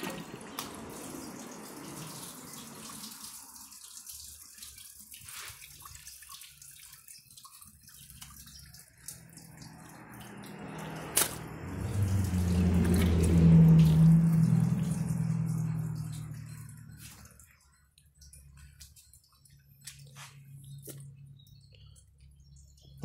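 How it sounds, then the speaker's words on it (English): Water runs into a Kohler toilet bowl, a low gushing swell that builds midway and fades, with quiet splashes and trickles before and after, close by and without speech. "So now I'll put some water in this one"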